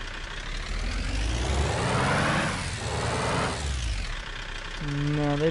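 A left-hand-drive car engine in a PS4 video game revs up and falls back in long sweeps, its tone climbing and dropping twice before settling into a rough idle, with a voice briefly near the end.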